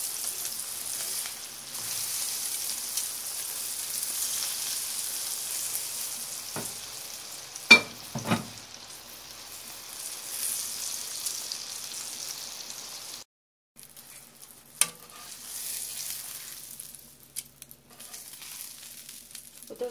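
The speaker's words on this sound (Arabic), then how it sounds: "نخليهم يتقلاو شويه" Eggplant halves frying in a pan, a continuous soft sizzle with a few sharp spatters and knocks of a utensil, a brief pause midway, then more sizzling; close, no talking.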